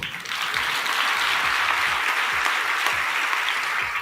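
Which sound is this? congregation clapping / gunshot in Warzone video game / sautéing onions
congregation clapping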